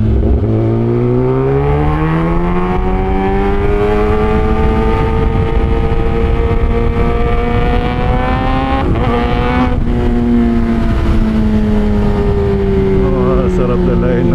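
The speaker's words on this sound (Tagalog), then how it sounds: "Sarap dalayin ng motor nito." A Kawasaki ZX-10R motorcycle engine revs loudly and close, its pitch climbing and holding in a strong sustained whine, with a brief blip near the end before easing back down.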